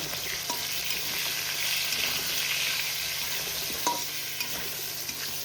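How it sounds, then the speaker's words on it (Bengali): Potatoes and flat beans with turmeric fry in a pan, a steady bright sizzle running throughout with occasional scrapes and clinks of stirring. "এবার আমি সব কিছু একসাথে করে ভালো করে ভেজে নেব।"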